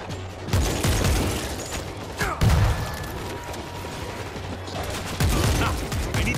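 An automatic turret rattles off rapid, continuous gunfire in the World War Z video game, sustained bursts swelling louder around the middle and again near the end amid a chaotic combat backdrop.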